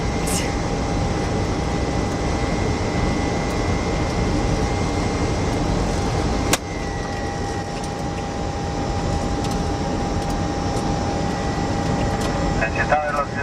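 A Sabena Boeing 737 on landing, heard from inside as a loud steady roar of engine and airflow with a constant whine, broken by one sharp thump partway through and cockpit tones near the end.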